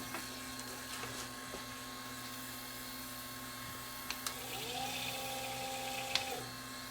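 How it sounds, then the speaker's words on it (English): A Panasonic AG1970 VCR threads and runs its tape, giving a steady mechanical whir and hum with a few faint clicks and a brief rising motor whine near the end, heard close up with no talk. "Tape is threading. Now it's moving."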